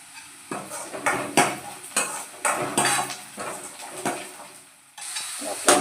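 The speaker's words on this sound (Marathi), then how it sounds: "कांदा आहे तो छान फ्राय झालाय गुलाबी" Onion frying in a pan is stirred with a utensil, producing rhythmic scraping strokes about once a second over a steady soft sizzle, close up, in a Maharashtrian home kitchen.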